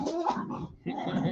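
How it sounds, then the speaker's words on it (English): Dogs growling and whimpering up close, with short yips in two bursts separated by a brief pause. "Them dogs cracks me up"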